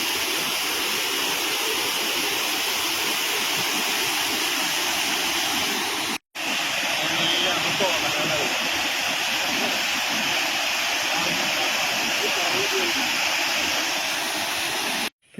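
Water at Anayadi waterfall near Thommankuthu rushes down in a steady, loud, continuous roar of dense broadband noise that holds unbroken with no talking, apart from two brief dropouts.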